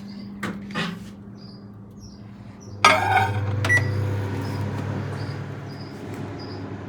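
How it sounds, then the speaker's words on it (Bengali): A microwave oven reheating rice: a door click and a beep come first, then the oven starts with a clunk and settles into a steady low hum with a whirring fan, close by. "ভাতটাকে একটু গরম করে ওভেন করে নিই।"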